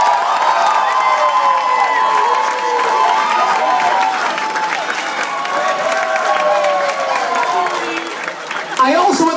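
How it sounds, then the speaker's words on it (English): Wedding guests at a country club reception applaud and cheer loudly, a dense sustained clapping with whoops and shouts, while a DJ's amplified voice carries over the crowd. "if you'd be so kind as to clap your hands"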